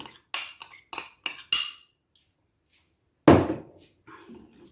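A spoon clinks against a glass or bowl while falooda ingredients, including soaked almond gum, are stirred together: five quick metallic taps in a row, then one louder knock and a softer scrape, with no talking.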